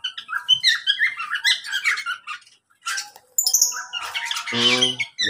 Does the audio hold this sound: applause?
no